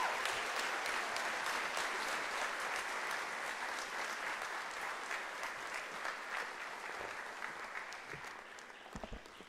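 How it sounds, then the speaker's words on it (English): A crowd at a university academic-year opening ceremony claps in a full, sustained round of applause that stays dense for several seconds, then thins out slightly toward the end. "I believe that deserves another hand of applause"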